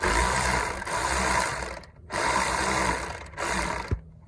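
A ratchet wrench loosens a 13mm bolt on the alternator of a 1995 Nissan Hardbody pickup in two long runs of rapid, close clicking, separated by brief pauses, ending with a short knock.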